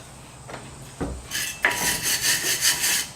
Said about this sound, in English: I want to hit the hub with a wire brush just to clean off any scaly rust that might be there